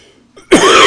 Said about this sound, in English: just have a cough